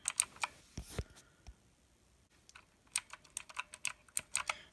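Typing on a RedDragon K552 mechanical keyboard with blue switches, crisp clicky keystrokes arriving in quick bursts with a short pause in the middle, close and fairly quiet, with no voices.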